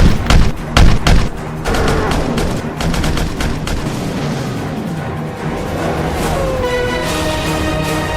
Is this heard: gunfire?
yes